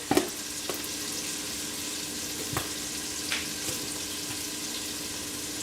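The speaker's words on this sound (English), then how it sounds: "we'll go ahead and swirl those around in that nice hot bacon fat" Onion and garlic fry in hot bacon fat over medium heat for fried cabbage, a dense steady sizzle close up with a few light stirring clicks, and no one speaking.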